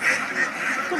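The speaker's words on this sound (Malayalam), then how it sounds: "ഇപ്പൊ കണ്ട കുറെ താറാവുകള്" A flock of ducks quacks in a busy overlapping chorus, fairly close, lasting a brief moment.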